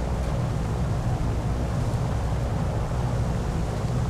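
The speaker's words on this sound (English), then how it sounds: "You see, we're already stalling. That's what that noise is." A heavy multi-engine patrol bomber in War Thunder stalls high at its flight ceiling, giving a loud, steady low engine drone with broadband wind rush that holds without pause.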